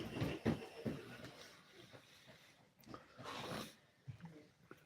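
A five-day-old bulldog puppy whimpers and snuffles close by, making short squeaky whines and snorting breaths in uneven bursts with a longer cry partway through.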